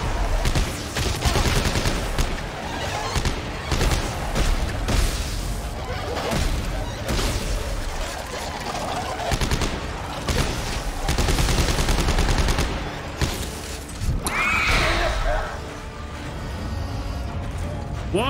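Dense, continuous gunfire from weapons in the sci-fi horror game Dead Space 3, with rapid bursts, clanks and mechanical creaks layered over one another for the whole stretch, with an occasional voice underneath.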